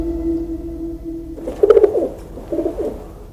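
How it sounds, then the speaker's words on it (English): A bird cooing in a Jean-Claude Van Damme action movie: two soft, dove-like bursts of cooing follow a steady tonal hum. "Some weird bird thing."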